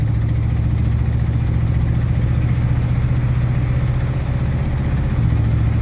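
A 1973 Chevrolet Cheyenne Super C10 truck with a 454 engine drones steadily and loudly up close as it drives through the gears, with a continuous low rumble and no talking.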